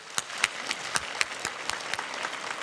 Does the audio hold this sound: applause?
yes